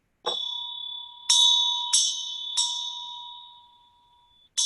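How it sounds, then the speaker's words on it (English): A bright bell rings in a short set of three quick strokes after a single opening stroke, each tone ringing on with a long, steady sustain before fading. "there's like a bell that rings in little short sets of 3"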